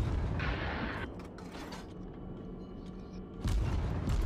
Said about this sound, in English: Opening fire. Russian destroyer guns are strong.